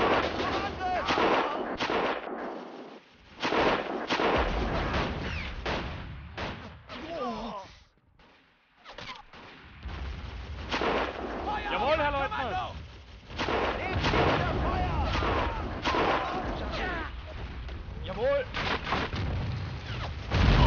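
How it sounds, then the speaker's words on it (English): Bursts of gunfire and heavy booms crash in dense, overlapping volleys during a World War I battle in the video game Battle of Empires, loud and nearly continuous, dropping away briefly once before resuming. "They'll get killed by the machine guns, of course,"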